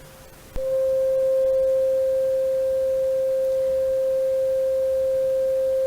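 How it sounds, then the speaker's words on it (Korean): A pure, steady 528 Hz electronic sine tone switches on abruptly after a faint hiss and holds unchanging at a constant pitch, alone. "528Hz를 조금 크게 제가 들려드리면"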